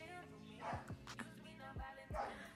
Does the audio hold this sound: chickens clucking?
no